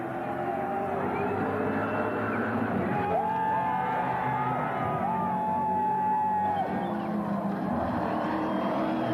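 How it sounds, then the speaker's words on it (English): Broad roar of a large trackside crowd at the Bathurst 1000 at Mount Panorama, with engine noise and whoops mixed into a steady continuous wash. "We won't talk, just listen to the crowd."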